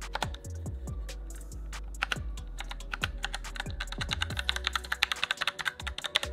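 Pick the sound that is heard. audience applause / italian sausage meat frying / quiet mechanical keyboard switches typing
quiet mechanical keyboard switches typing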